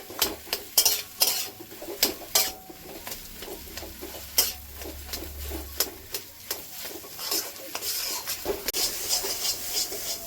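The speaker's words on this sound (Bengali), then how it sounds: "কিছুক্ষণ ভেজে নেব।" Okra snack frying in a pan with spices, frequent sharp scraping and clinking stir strokes over a low sizzle, close and rhythmic throughout.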